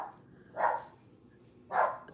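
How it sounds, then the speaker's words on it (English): A dog at home gives two separate barks, each short and moderately faint, spaced about a second apart with quiet between them. "she barks at everything"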